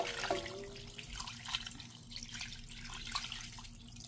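Water runs from a tap into a pot for cooking, a steady hiss with splashing and dripping, quiet and close with a faint hum underneath.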